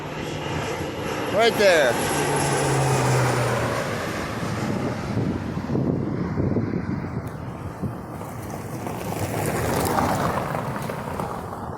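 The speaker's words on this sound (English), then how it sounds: "You can see the plane going." A fixed-wing airplane passes overhead out among farm fields, its steady engine drone rising and falling under wind buffeting the microphone, with a person speaking briefly over it.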